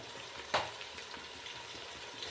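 Frying in a pan while cooking veg pulao gives a steady, soft, broadband sizzle with one brief louder crackle near the start, heard alone at moderate distance.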